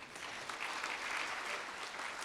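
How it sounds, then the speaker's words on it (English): Steady applause from an audience at a film awards closing ceremony, thanking a photographer called up on stage; dense, continuous clapping at moderate distance with no speech over it. "come up here for a big thank you clap"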